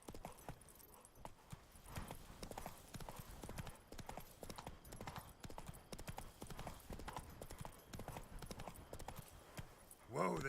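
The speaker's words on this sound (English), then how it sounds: "Whoa there, Roach" Horse hooves clip-clop steadily in The Witcher 3, a rhythmic trotting gait on the ground, moderately close, with a brief whinny at the end and a voice speaking over it.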